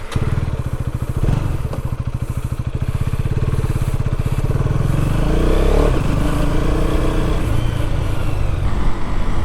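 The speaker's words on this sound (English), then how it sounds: "let's go for a short ride on this KTM Duke 250 Gen 3." A KTM Duke 250 Gen 3 motorcycle engine runs steadily while riding, a loud close throbbing drone that builds and rises in pitch as it accelerates, with no talking.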